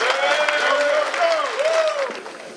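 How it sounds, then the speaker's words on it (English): An audience at a Kappa Alpha Psi fraternity chapter's 40th anniversary celebration breaks into a short burst of steady applause. A tonal voice-like cheer rises and falls over the clapping. "just by round of applause, if you've been having a good time thus far, please give it up."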